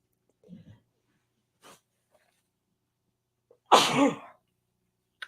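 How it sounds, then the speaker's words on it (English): A single loud sneeze bursts out near the end after a few quiet breaths and small sounds. "I'm going to sneeze"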